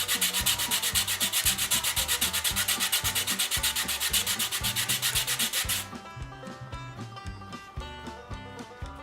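The edge of a sanding block rasping back and forth over a block of foam in quick, even strokes, a steady rhythmic rubbing that turns softer and duller partway through; close, with no voices.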